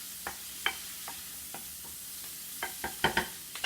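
Brussels sprouts cooking in a pan give a quiet, steady sizzle under a series of sharp utensil scrapes and clicks, about ten distinct stirring knocks spaced across the stretch and bunching together toward the end.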